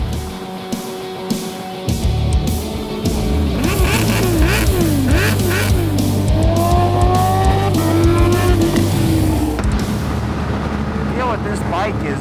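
A supercharged 1000cc Kawasaki H2 motorcycle engine revs up and pulls hard, climbing and shifting through gears as it accelerates, loud and close throughout.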